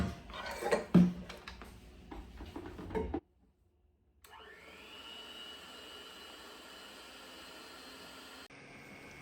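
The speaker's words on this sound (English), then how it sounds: "The first step is to beat 1 cup of heavy cream to soft peaks." Electric hand mixer beating heavy cream toward soft peaks, a steady whirring drone that starts after a brief pause and runs evenly to the end, preceded by louder clattering kitchen handling.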